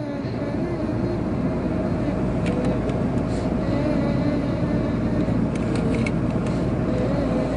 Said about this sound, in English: Lots of noise on the street and inside the car as well.